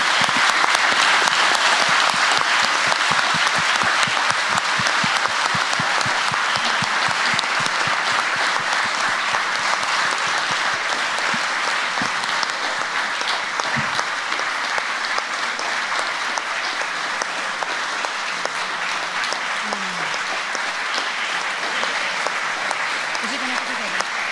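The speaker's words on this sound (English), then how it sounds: "I would really ask you now to give a huge applause to our guest speaker" A large lecture audience at Sciences Po University in Paris gives a guest speaker sustained applause, a dense, steady wash of clapping that lasts over twenty seconds and fades only slightly toward the end.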